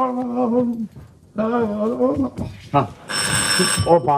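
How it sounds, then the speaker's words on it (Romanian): An old telephone rings at midnight in a Romanian comedy scene, its bright bell trilling loudly for about a second near the end, between stretches of talk. "Ăsta este telefonul de la miezul nopții."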